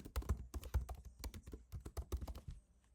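Rapid keystrokes clatter on a computer keyboard as a file name is typed, an uneven burst of close, crisp clicks running for a few seconds before trailing off.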